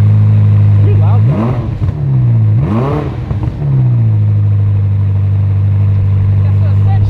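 Ferrari SF90 hybrid with its V8 and electric motors idling in sport mode, a loud deep steady rumble broken by two sharp throttle blips that swell and fall, close to the car.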